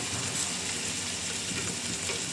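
Spices frying in oil for a Nellore-style small fish curry, a steady dense hiss and crackle at close range with no pauses, even and moderately quiet, with no voices.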